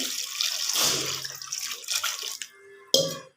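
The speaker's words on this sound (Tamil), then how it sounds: "இதை வந்து தேவையான அளவு தண்ணி ஊற்றி" Water splashes and gurgles as it is poured over yams in a pot, a continuous close-up pour that stops with a final small splash.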